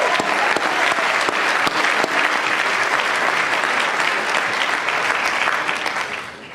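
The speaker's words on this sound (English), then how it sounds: "Round of applause is in order." Loud, sustained applause from a large crowd at a school commencement ceremony, steady clapping throughout that begins to fade near the end.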